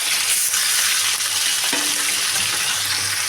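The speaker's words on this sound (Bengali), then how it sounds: "অল্প অল্প করে দিয়ে আমি মাছগুলোকে ভেজে নেবো বেশ কড়া করে" Small parshe fish fry in hot oil in a pan, giving a steady, close, dense sizzle and bubbling hiss throughout, with a brief clink partway through.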